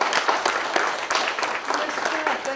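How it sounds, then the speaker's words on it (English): An audience applauds together in a continuous burst of clapping at an event, fairly close and with no speech over it. "Let's give her a round of applause."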